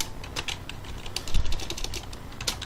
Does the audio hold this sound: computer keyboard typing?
yes